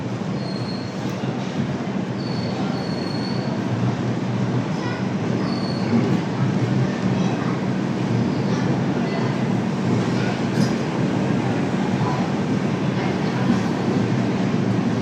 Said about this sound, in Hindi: सामने से चली गई दुर्ग योग नगरी एक्सप्रेस